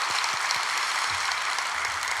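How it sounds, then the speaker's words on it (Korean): A congregation claps to encourage the church worship team of musicians and singers during a special early-morning prayer service, a broad steady wash of applause with a few louder individual claps near the start. "우리 악기 연주팀 뿐만 아니라 싱어들 찬양팀을 위해서도 격려하는 박수 하겠습니다"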